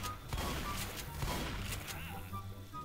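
Gunfire rattles through a round of Left 4 Dead 2, with bursts of shots and sharp cracks layered over a constant background hum and game noise, moderately loud and continuous.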